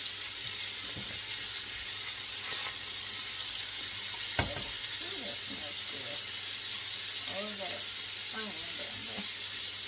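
Onions frying in a pot for creamy Parmesan Italian sausage soup give a steady broadband sizzle throughout, with occasional stirring clicks and a person talking intermittently over it.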